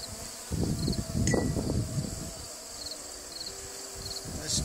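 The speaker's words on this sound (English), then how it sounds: "some bees in this jar from a brood frame by brushing backward and letting them fall in" Honey bees brushed from a brood frame hum and buzz faintly inside a mason jar, with soft rustling and tapping sounds throughout.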